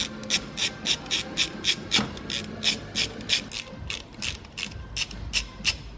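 A hand ratchet undoes the turbo V-band bolts and intercooler hose clamp on a 4G93 SOHC turbo engine during a budget Evo teardown. Around fifteen sharp, evenly paced clicks sound close up, with no talking.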